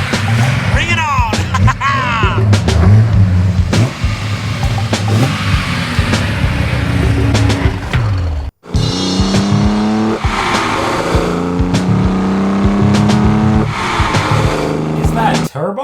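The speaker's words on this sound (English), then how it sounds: "Let's drive this giant killer." A 1972 Holden XU1 Torana race car roars close and loud, rising through the revs with several gear changes and brief dips between shifts, and talking is heard under the engine.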